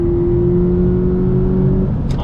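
A Toyota 86 Hakone Edition's engine drones loud and close under braking, then a short rising rev blips on the downshift near the end.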